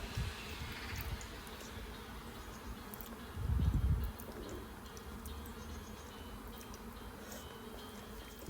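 Honey bees buzzing around a hive while a nuc is transferred, a steady low insect drone outdoors with a brief louder swell midway, no talk.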